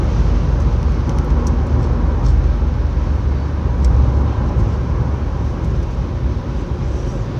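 Dense motorway traffic on the M9 roars continuously, a steady broadband rumble of cars and heavier vehicles passing close by without pause, loud and unbroken throughout.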